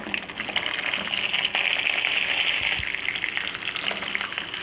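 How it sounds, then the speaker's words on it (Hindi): Green chillies sizzle as they fry with spices in hot ghee, a steady, close crackling hiss that holds evenly throughout with no talking. "मिर्चों को बस ऐसे ही मसालों के साथ और घी में फ्राई कर लूँगी"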